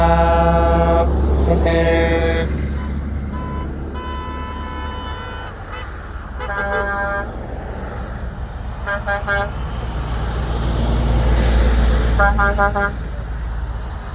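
A long convoy of trucks, cars and SUVs rolls past outdoors under a steady roar of traffic, with repeated horn toots and honks sounding in bursts throughout, some close and loud, others further off.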